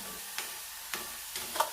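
Onions frying in oil over a medium flame, a steady soft sizzle with a few sharper stirring scrapes and pops spaced about half a second apart, close and fairly quiet.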